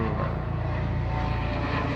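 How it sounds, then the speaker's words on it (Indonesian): A helicopter flies overhead above open rice fields, its engine and rotor drone a steady, loud, continuous roar with no pauses. "wah pas pisan di atas kita ada helikopter"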